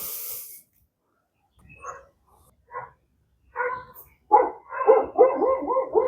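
Dogs bark outdoors on a spring day in Maryland, in scattered short barks and yips that grow louder and closer together toward the end.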